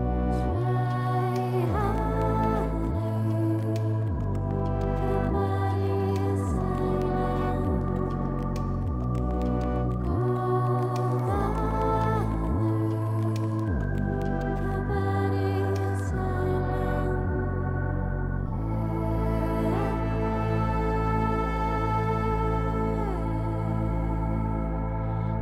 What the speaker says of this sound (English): So all these parts kind of build up to the second chorus, which sounds like this.